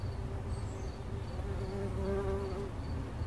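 A bee buzzes steadily nearby, its drone rising and wavering in pitch, with faint birds chirping in the background.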